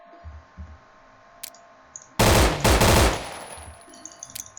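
M16 rifle fired in single-shot mode in the zombie shooter game No More Room In Hell, a few quiet clicks and then a loud cluster of sharp, closely spaced gunshots lasting about a second, followed by faint clicks.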